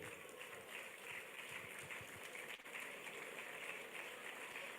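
A conference audience at the NIESV annual conference claps in a dense, even wash of applause, fairly faint and distant, sustained without pause and with no talking.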